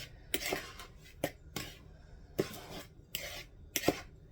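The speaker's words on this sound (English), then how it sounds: "we're going to stir all that together" A spoon knocks and scrapes in a bowl while bread dough ingredients with a pinch of salt are stirred together, making a handful of separate sharp clanks and scrapes with short pauses between them.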